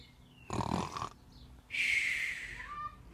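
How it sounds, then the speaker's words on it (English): Snoring from someone asleep in a bedroom at night: a rough, broad snore burst followed by a higher, hissing exhale, both fairly close and alone. "Snoring, I swear."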